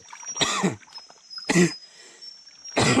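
Three sharp, harsh coughs spaced about a second apart from someone who choked on water outdoors, close and loud over a steady faint high whine in the background.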